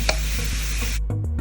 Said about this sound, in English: you're just going to cook your meat until it is well done.